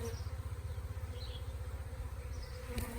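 A swarm of honey bees buzzing around a tree and a hive box during a swarm capture, a continuous low droning hum with a pulsing, wavering texture, fairly close and steady throughout, with no voices.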